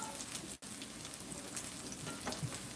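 A black bean burger fries in a pan, giving a steady crackling sizzle with a brief dropout near the start, then continuing evenly and close up with no talking.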